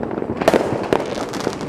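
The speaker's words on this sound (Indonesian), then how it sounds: "Kali ini kita menyaksikan pesta kembang api guys" A New Year 2022 fireworks display at midnight around Summarecon Mall Bekasi, Indonesia, with repeated booming bursts and crackles over a continuous rumble of distant explosions.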